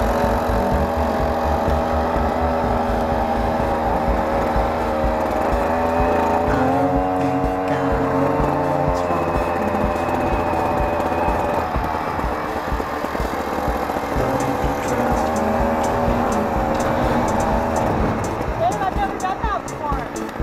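A homemade moped's small engine runs after a pull start, a steady buzzing idle with slight rev changes, close and loud, with voices talking over it.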